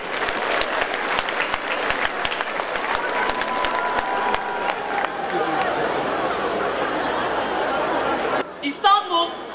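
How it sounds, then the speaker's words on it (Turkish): Crowd at a 2016 university graduation ceremony in Istanbul applauding loudly and steadily for about eight seconds, with some chatter and laughter mixed in, before the clapping stops and a voice begins speaking. "Bu ölümsüzlük anını bir kez daha alkışlayabilir miyiz?"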